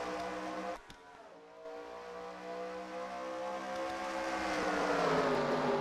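Stock cars race at Bumpdraftin Superspeedway in a video game, a dense pack of engines droning loudly and steadily. The pitch rises gradually as the field accelerates after the green flag, with a brief dip in the roar near the start.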